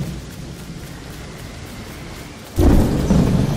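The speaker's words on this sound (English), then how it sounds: "Game sound a bit too loud with a thunderstorm." Steady rain hisses in a LEGO Fortnite game storm, then a loud rolling thunderclap breaks in and rumbles on over the downpour.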